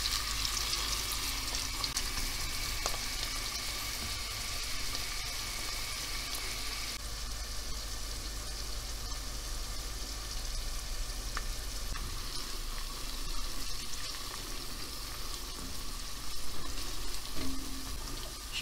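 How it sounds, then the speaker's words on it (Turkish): Steady sizzling hiss of onions sautéing in hot oil continues throughout, with occasional faint stirring scrapes and no talking. "Biraz soteleyeceğim soğanlarımı."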